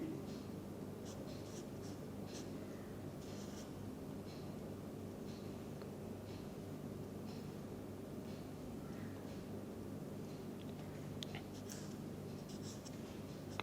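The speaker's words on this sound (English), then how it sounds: "one can write either with solid line like this representing 2 electrons" A pen writing a Lewis dot structure in a chemistry lesson: faint, intermittent scratchy strokes over a steady low hum.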